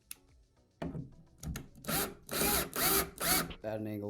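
Several short bursts of a drill grinding into a 2x4 wood stud through drywall, each louder than the last, with scraping and creaking between them.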